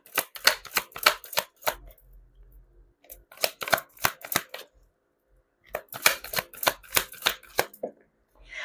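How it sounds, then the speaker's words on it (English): Tarot cards being shuffled and drawn during a reading, with repeated bursts of quick riffling and slapping card sounds in three clusters separated by brief pauses, close and fairly loud. "Let's try to pull up another card here."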